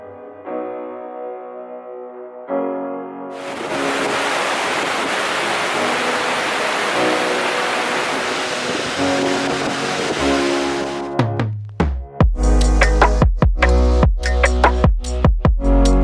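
Waterfall fed by a lake full of snowmelt at Teriberka, a broad steady roar of rushing water that fills most of the stretch after a quiet musical opening, then gives way to sharp knocks and thumps.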